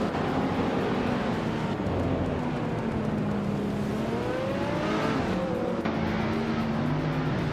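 A 2003 Spiker C8 Laviolette racing car engine in a video game drones loudly and steadily, its pitch gliding up and down through gear changes, with no voices.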